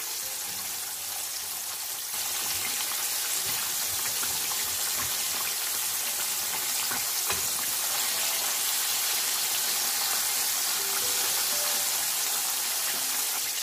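Chicken prepared with milk fries in oil over a medium flame, giving a dense, continuous crackling hiss like rain that grows louder after the first couple of seconds and holds steady.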